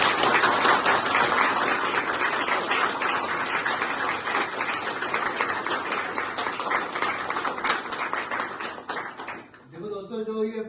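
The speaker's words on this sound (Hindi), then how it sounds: "इसने जोरदार तालियां।" Loud applause from a recovery-program sharing session audience in Dehradun marking a member's first year sober, dense steady clapping that fades near the end as a voice begins.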